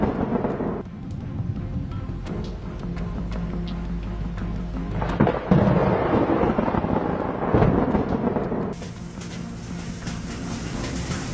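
Thunder from lightning in a night storm rumbles loudly and continuously, swelling into a heavier crack midway before a steady hiss of rain or hail takes over near the end.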